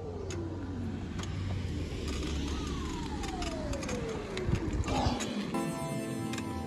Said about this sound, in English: We'll just let this car go by.